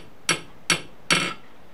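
Three sharp, ringing metallic strikes at a steady pace: the small end of a chasing hammer planishing copper for leaf earrings, close and crisp with no talk.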